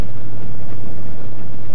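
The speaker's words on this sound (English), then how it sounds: "does anything sound any better than that Rolls-Royce Merlin? That dude just hums." The Rolls-Royce Merlin engine of a P-51 Mustang hums in a steady, loud drone, a continuous deep roar with wind noise over it.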